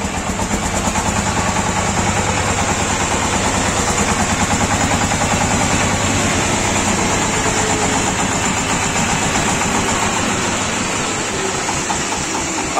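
A mini tractor engine idles close by, a loud steady rhythmic chugging with constant vibration that holds unchanged for the whole stretch and eases slightly at the end.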